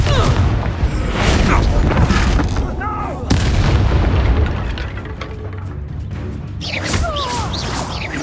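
Confringo blasting spells exploding during a combat fight in the Hogwarts Legacy video game, heavy booming blasts and crashes with whooshes and magical zips, loud and busy, over game music with a voice and shouts.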